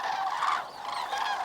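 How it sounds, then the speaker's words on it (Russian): A flock of birds takes off together on the Danube to fly south, with loud, overlapping honking goose-like calls close by. "Как по команде, все птицы взлетают и направляются на юг."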